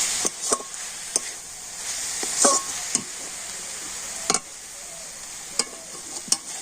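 A pan of bottle gourd filling with cardamom being stirred, soft low sizzle under sharp intermittent spatula taps and scrapes against the pan, nearby and fairly quiet.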